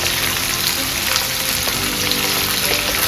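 Chilies and shallots sizzle in hot oil in a pan for a garlic-flower stir-fry, giving a steady, close, even crackle with no talk.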